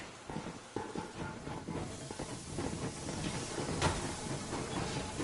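A steam train rolls along in Metro Exodus, a steady rumbling chug with hissing steam and rhythmic clatter of wheels, moderately quiet and continuous, with no voices over it.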